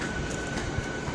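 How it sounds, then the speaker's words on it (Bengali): A train pulls into a station on the way home to Kharagpur, a steady broadband rumble of wheels and carriage noise filling the moment with a faint high tone running through it, no talk over it. "ট্রেন ঢুকছে,"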